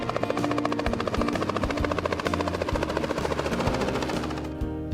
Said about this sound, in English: but a helicopter, you gotta be kidding me